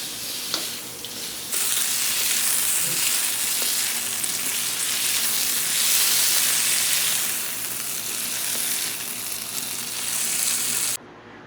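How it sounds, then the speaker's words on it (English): Rice tossed with soy sauce and hot oil in a wok, a loud, continuous close-up sizzle and hiss that swells when the ingredients go in and holds steady before cutting off, with no talk. "we're going to add in our hot oil, our soy sauce, and our rice and pull everything together"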